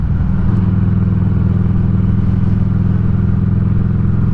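A Street 500 motorcycle cruises in fifth gear at 2600 RPM, its engine a steady loud low rumble with a constant even pulse, close and unbroken.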